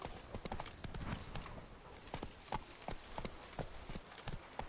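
In The Witcher 3: Blood and Wine on PS4 Pro, a horse gallops with a quick, rhythmic clip-clop of hooves, fairly close and steady but quiet overall.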